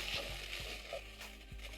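Ginger and garlic sizzle in a pan for Cajun dirty rice, a soft continuous hiss close by with a few faint stirring taps.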